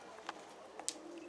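Faint, soft cooing from Mardin pigeons, with a few brief higher calls scattered across a quiet background.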